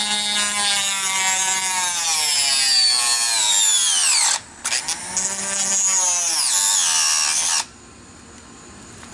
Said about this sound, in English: Let's cut our hinge grooves right into our ailerons.